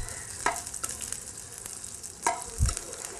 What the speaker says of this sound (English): We're going to be just shallow fry just this ladyfingers